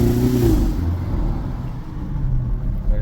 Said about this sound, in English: Let me see if you can hear the exhaust on it.